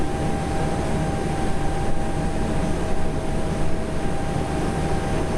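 A vehicle engine idles steadily at about 1,000 RPM, a continuous low rumble with constant loudness and no speech over it.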